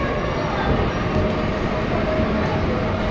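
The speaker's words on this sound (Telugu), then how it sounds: "ఇదే ఇప్పుడు మేము ఎక్కి వచ్చిన ట్రైన్." Train at the Bruges railway station platform, a steady low rumble of rail noise filling the whole stretch with a faint hum, busy station ambience around it.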